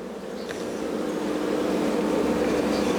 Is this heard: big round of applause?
no